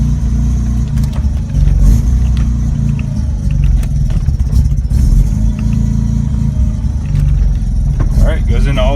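Mazda RX-7 engine running rough, a loud, steady low rumble with uneven clattering pulses throughout, heard up close with a voice talking over it.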